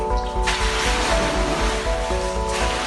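Indoor swimming pool water in a swaying high-rise in Balneário Camboriú sloshing heavily and spilling over, a steady broadband rush of moving water with no pauses, loud and continuous throughout.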